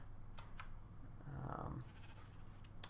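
Sheep bleating in a Minecraft-style survival video game, a couple of short nasal bleats over a low background hum, fairly quiet and without speech.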